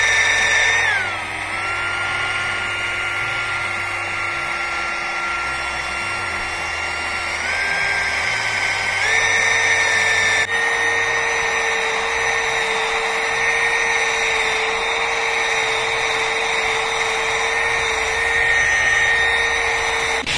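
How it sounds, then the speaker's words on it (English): A power grinder works steadily across a cast metal sword pommel, flattening seam areas; a loud, continuous high whine holds for about twenty seconds, shifting pitch as the load changes. "Grind that off, grind all this nice and flat, and I think this will be workable."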